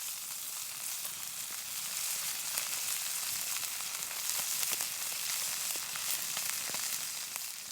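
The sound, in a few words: mallard duck breast searing in olive oil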